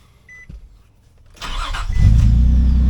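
2003 Nissan Pathfinder engine, recently fitted with an aftermarket MAF sensor, cranking briefly after a short beep, then catching and settling into a loud, steady low idle that holds to the end.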